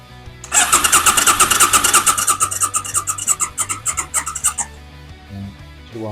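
The engine of a barn-find Suzuki VL800 Intruder motorcycle cranks over without starting, a fast rhythmic chugging of starter pulses lasting about four seconds, loud and close, then stops.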